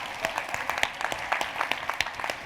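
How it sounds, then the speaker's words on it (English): A conference audience applauds in a room, a fairly faint but steady patter of many hands clapping with irregular sharp peaks, heard alone without talk. "But I think we need to give him a round of applause to Carlos."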